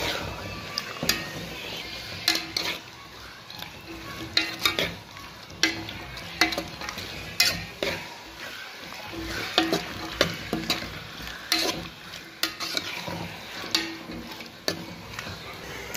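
Tinda sabzi sizzles in a pan while a spoon stirs it in regular scraping strokes, close and fairly loud over continuous frying crackle.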